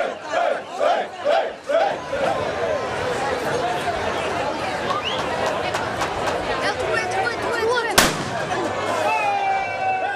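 Pirate reenactors at a Diocletian's Days festival closing show shout in rhythmic battle cries, then a crowd roars continuously while a single sharp flintlock pistol shot cracks out near the end.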